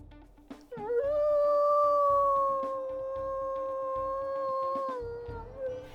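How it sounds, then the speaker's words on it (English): Whitefang, a wolf in a video game, lets out one long sustained howl that rises at the start, holds a steady tone and tapers off, clear and close with a faint rumble underneath. "let's go ahead and we'll listen to his howls as well"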